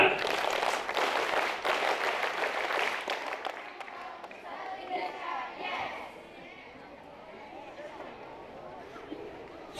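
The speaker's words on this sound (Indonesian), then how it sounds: "Tepuk Pramuka." Scouts at a Pramuka ceremony clap together in a dense, patterned burst of group clapping for several seconds, then it thins into crowd murmur and babble.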